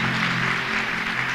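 A church congregation applauding during a sermon, a dense, steady wash of clapping that fills the whole short moment, close and fairly loud.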